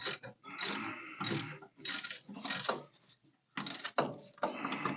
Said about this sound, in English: This one I'm going to tighten by hand because I don't want to use the impact and break it